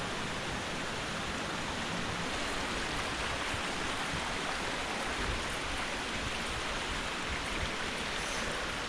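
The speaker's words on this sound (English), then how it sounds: "There's a view of some little waterfalls with some moss covered branches laying down the stream." Steady broadband rush of a woodland stream tumbling over small waterfalls among moss-covered branches in a glen, constant and fairly soft, with no voices.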